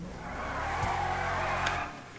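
Stock Canis Kamacho offroad truck with double exhaust in a video game, its engine roaring loudly and steadily for about two seconds before easing off, with faint tire noise mixed in.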